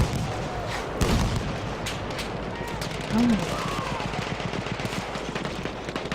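Rapid, continuous machine gun fire laying down suppressive bursts in a Battlefield 1 match. It rattles steadily throughout, mixed with distant booms and battle noise, while a commentator talks over it.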